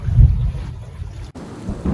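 Thunder rolling from a storm at sea off the US coast, heard aboard a sailboat; a deep low rumble swelling early, then fading under steady rain-like hiss.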